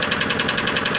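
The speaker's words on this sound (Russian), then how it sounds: "ВАЗ-2109, кто-то стучит в моторе." Valve knocking in a VAZ-2109 car engine: a fast, even train of sharp metallic taps repeating many times a second over the running motor, close and fairly loud, with no talking.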